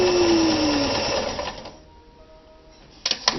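A vintage Kenmore 158.14100 sewing machine stitches a zigzag at steady speed with a dense, rapid whirring clatter, then slows and stops, leaving quiet before a few light mechanical clicks.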